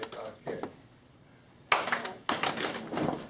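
Hand claps during a classroom rhythm game, a few sharp claps and pats in short bursts with quiet gaps between, speech present.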